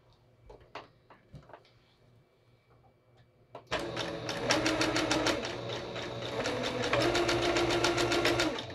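Sewing machine stitching a quarter-inch quilt seam on a four-patch block. A few soft handling clicks and taps come first, then the motor starts in a fast, even run of rhythmic stitching that holds steady to the end.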